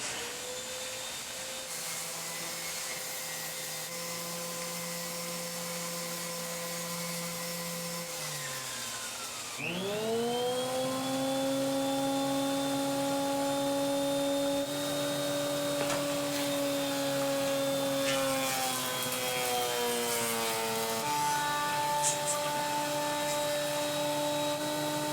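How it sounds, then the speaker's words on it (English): A guitar body is sanded with 80 grit sandpaper under a loud, continuous whining motor hum that shifts pitch partway and keeps running without pause. "I'm going to sand, I'll start with some 80 grit"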